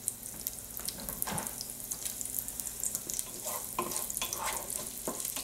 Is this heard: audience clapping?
no